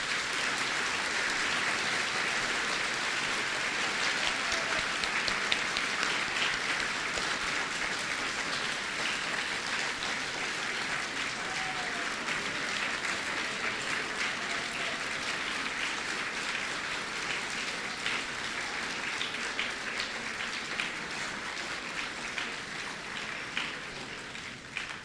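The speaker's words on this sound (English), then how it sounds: "Could we now have another round of applause for the new members of the National Junior Honor Society?" Sustained audience applause at a National Junior Honor Society induction ceremony, a dense steady wash of many hands clapping that continues evenly for the whole stretch, slightly tapering near the end, with no voices over it.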